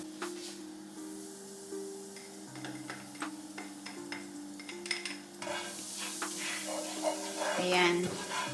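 Annatto seeds stirred in hot oil in a home kitchen for chicken inasal, faint sizzling with scattered scraping stirs and clicks over a steady low hum, growing busier toward the end.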